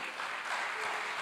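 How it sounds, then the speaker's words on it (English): Conference audience at an African investment event breaks into a sustained round of applause, dense steady clapping filling the whole moment with no talk over it. "can you help me celebrate them with a loud round of applause?"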